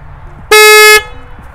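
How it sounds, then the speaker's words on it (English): Stock horn of a Harley-Davidson Tri Glide trike sounds in one loud, steady half-second blast, close by, with quiet background noise before and after. "the stock horn on this Tri-Glide is louder than the stock horn on my Street Glide"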